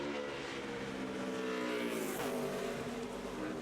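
A 2009 NASCAR Nationwide Series car, the No. 31, roars through a qualifying lap at Bristol. The loud, continuous engine howl swells and bends in pitch as the car sweeps past.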